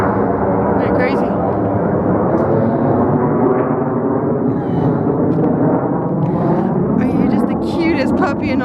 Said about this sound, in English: Never had a jet fly over.